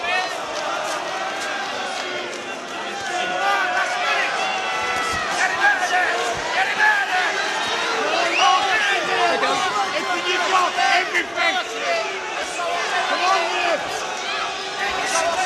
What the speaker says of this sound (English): The crowd at fever pitch inside the arena.